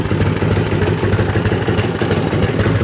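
A 1978 Harley-Davidson FLH motorcycle engine idles steadily with a loud, even mechanical rumble and light clatter throughout, no voices.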